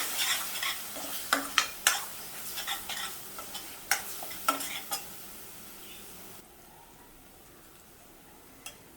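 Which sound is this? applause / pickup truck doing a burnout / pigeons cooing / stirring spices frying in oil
stirring spices frying in oil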